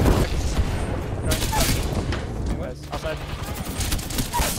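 Grenade blasts and bursts of gunfire from the Apex Legends video game, with several sharp booms and crackling shots in quick succession while players talk over them.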